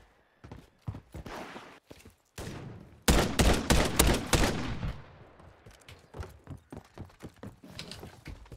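Video game gunfire with scattered sharp shots, then a dense loud burst of rapid automatic fire lasting a couple of seconds, followed by sparser popping shots that fade in intensity.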